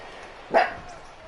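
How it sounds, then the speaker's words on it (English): A dog gives one sharp, loud bark close by, brief against a steady low background hum. "this dog is getting on my nerves. Shut up, please."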